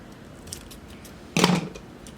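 Scissors snip once through floral planner stickers, a short crisp cut after a moment of near quiet, with a faint earlier tick.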